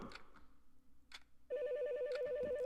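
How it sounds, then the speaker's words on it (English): A telephone rings in the horror video game The Morgue, a loud, steady trilling ring that starts partway through after a few faint sounds, close and continuing alone without speech. "I don't want to answer the phone."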